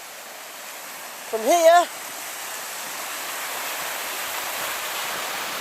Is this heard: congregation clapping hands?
no